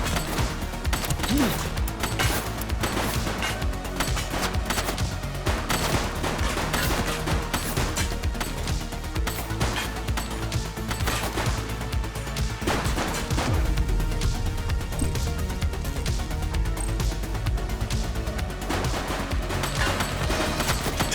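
A firefight in the police video game The Precinct on PS5 brings dense, rapid bursts of gunfire and sharp cracks almost without pause, loud and close, with occasional shouted voices mixed in.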